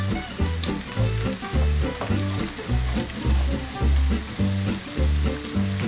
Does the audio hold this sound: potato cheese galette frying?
yes